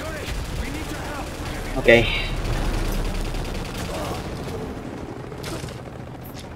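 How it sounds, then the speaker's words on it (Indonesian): A helicopter firing its gun in Call of Duty: Modern Warfare 3 gives a loud burst and a booming blast over a constant battle rumble, while someone talks over it. "Itu helinya nembak."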